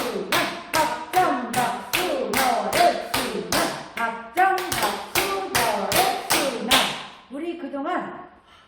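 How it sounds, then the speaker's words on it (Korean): Rapid, sharp two-handed health claps in a steady rhythm, close and loud, with brief pauses between bursts and softer back-of-hand slaps near the end. "이 지금 계속 친 박수는 양손으로 쳤지요."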